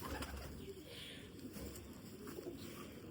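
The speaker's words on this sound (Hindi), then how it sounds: "बहुत ही अच्छे कबूतर हैं" Golden pigeons coo softly in short, faint calls, with a little wing flapping against a quiet background.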